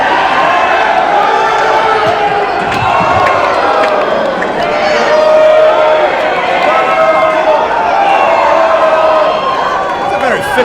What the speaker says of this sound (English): Breaux Keller uses the post, they cheer him.